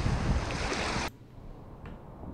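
Waves wash onto a beach at North Bass Island after a kayak sailing crossing, a loud, steady broadband rush that drops abruptly to a softer, quieter wash partway through.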